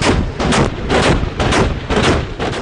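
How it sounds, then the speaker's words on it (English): Repeated heavy blasts from self-propelled artillery, roughly every half second, booming loudly and continuously with no pause between shots. "Self-propelled artillery."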